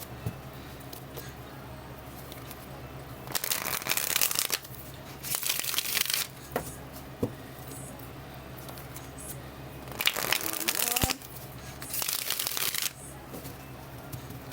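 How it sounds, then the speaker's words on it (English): Tarot cards being shuffled by hand in several separate bursts of riffling and rustling, close and fairly loud, with quiet pauses between them. "get a good shuffle going."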